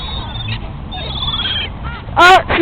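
Geese by the water give a loud honk near the end, with fainter bird calls and gull-like cries before it against outdoor ambient noise.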